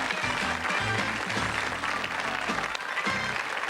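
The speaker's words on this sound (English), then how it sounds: "Unstinted applause for 2 marvellous teams" A quiz-night audience claps for two teams, a dense, steady burst of applause filling the room at close range without a break.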